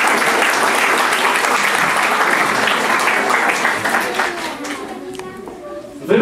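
An indoor audience at a literary contest award ceremony applauds loudly and steadily, and the clapping fades out toward the end.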